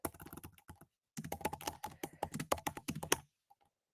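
Rapid typing on a computer keyboard, close and fairly quiet, in two bursts of clustered key clicks separated by a short pause, with no talking.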